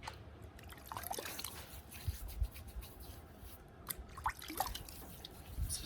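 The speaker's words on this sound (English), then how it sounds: "It's a super hot day out, so I'm doing a cold water shave." Water drips softly during a cold-water shave done with an axe, with scattered faint drops and small trickles over a quiet, steady background.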